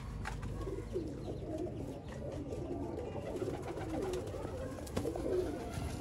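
Golden kamagar pigeons coo softly and repeatedly against a steady outdoor murmur in Sialkot, with a few other bird calls mixed in; no one speaks.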